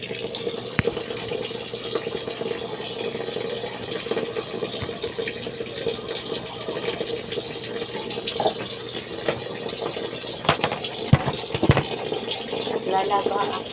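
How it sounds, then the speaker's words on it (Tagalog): Tap water runs steadily into a basin for hand-washing laundry, with scattered splashes and clatter throughout and a person speaking over it. "For today's video ay maglalaba naman ako ng mga labahin."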